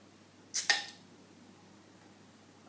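A bottle of homebrew oatmeal stout is cracked open with a bottle opener, giving a short double burst of hissing gas escaping, sharp and close, followed by quiet.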